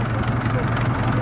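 A 1980 Leyland tractor fitted as a hedge cutter idles close by, a steady low diesel rumble with a regular throbbing pulse over the whole brief moment.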